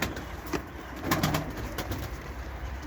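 Domestic pigeons coo softly in a loft, a few low, brief murmurs over a steady background hiss, fairly faint and close.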